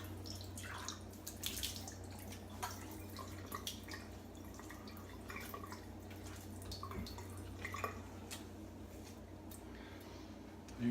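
Water trickles and drips steadily while alum is rinsed off after a shave, soft and close under a faint background hum, with no talking.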